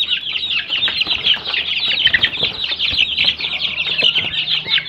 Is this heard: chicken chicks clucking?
yes